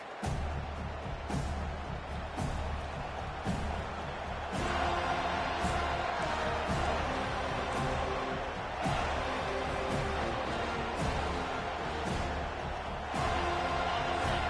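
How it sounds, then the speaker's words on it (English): A large video game football stadium crowd roars continuously, a dense stadium din with occasional sharp thuds and swells, loud and unbroken throughout. "This crowd bringing the energy and noise early."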